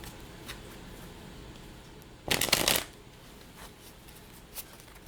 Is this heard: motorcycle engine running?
no